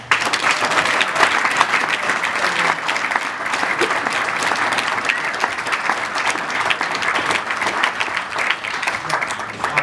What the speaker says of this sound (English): Could we give one more round of applause to the artists?